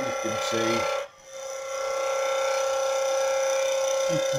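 A dull skew chisel scraping wood on a spinning lathe, a continuous raspy hiss over the lathe's steady motor hum, briefly interrupted near the start, with faint speech early on.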